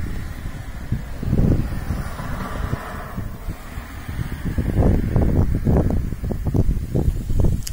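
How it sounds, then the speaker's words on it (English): Strong wind buffeting the microphone outdoors, with low rumbling gusts rising and falling throughout and no speech. "It's a windy day out, folks."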